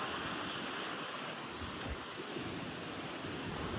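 Strong wind blows steadily on a Boracay beach, a constant loud roar of gusts buffeting the microphone with surf washing beneath it and no voices.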